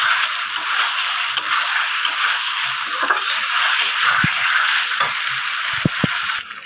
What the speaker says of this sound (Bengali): আমি কাশ্মীরি লঙ্কাগুলোটা দিয়ে দিচ্ছি দিয়ে আমি আবার ভালো করে কষিয়ে নেব